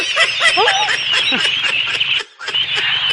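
A flock of ducklings quacks steadily and close by while following their keeper in a rice field setting, with overlapping calls, one short pause, then more quacking.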